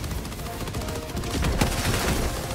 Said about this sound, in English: Ah, rocket turret.